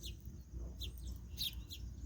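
A small sparrow eating SpaghettiOs gives a few short, high, bright chirps at a modest distance, scattered irregularly across a quiet background.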